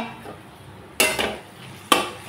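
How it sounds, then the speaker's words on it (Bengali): Pot lid lifted off a cooking pot of kochu stalks and dried fish with two sharp metallic clanks about a second apart. A faint bubbling simmer sits between them in a quiet kitchen. "5 মিনিট পর ঢাকনা খুললাম।"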